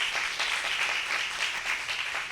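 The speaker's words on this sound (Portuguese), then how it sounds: "Dá uma salva de palmas aí," A church congregation breaks into applause, a dense continuous patter of many hands clapping at moderate volume, heard from some distance and holding steady throughout.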